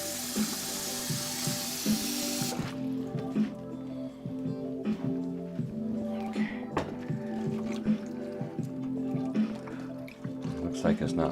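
Kitchen tap water runs in a brief hiss for rinsing food while making yakisoba, then cuts off, leaving drips and clattering kitchen noises under a voice talking.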